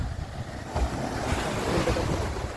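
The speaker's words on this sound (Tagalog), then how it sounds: "So, sobrang alon na guys." Rough ocean surf at a beach in Bermuda, a continuous rolling wash of breaking waves mixed with gusty wind buffeting the microphone, close and steady with no voices.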